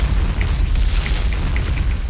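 A fire grenade goes off in the shooter game Point Blank, a deep booming burst with crackling flames and scattered metallic clicks and pings over a continuous rumble.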